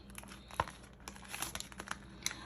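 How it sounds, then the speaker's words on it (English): A paper envelope crinkles and rustles as cash is pulled out of it, with a few sharp crackles standing out from softer handling noise, close and fairly quiet. "I'm going to take out the monies out of this envelope."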